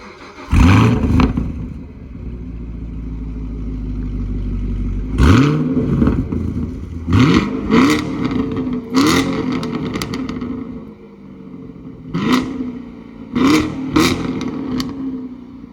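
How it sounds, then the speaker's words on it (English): Camaro SS 1LE V8 in track mode on the stock exhaust with the rear catalytic converters removed. Loud, close revs and sharp blips repeat over a rumbling idle, with crackling between pulls. "this is with track mode, stock exhaust with the rear catalytic converters taken out"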